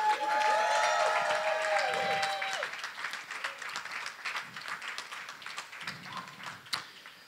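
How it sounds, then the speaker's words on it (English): Wedding guests applaud in a room, dense clapping that starts loud and slowly thins into scattered claps, with a sharp tap near the end and faint voices mixed in under a brief tonal sound at the start. "let's give a bigger round of applause"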